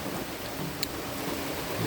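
Rain pattering steadily on a parked car heard from inside, a dense even wash of droplets with a faint low rumble underneath and one brief sharp tick partway through, no voices.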